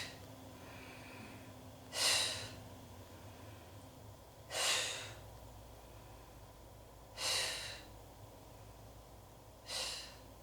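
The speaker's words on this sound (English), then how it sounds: "So you inhale, exhale." Slow, steady breathing during a fitness and cardio exercise, with four distinct breathy exhales spaced evenly about two and a half seconds apart over a faint background hum, no talking.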